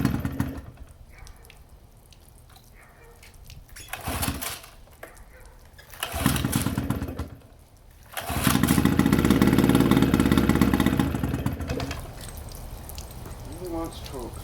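A Johnson outboard boat motor needing choke sputters in short bursts, then catches and runs unevenly nearby before easing to a lower idle, with talk around it.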